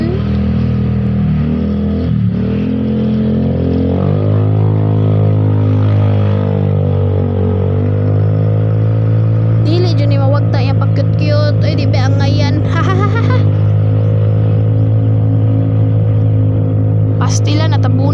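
Droning engine hum of a motorcycle, shifting pitch as it changes speed, with people talking intermittently over the ride.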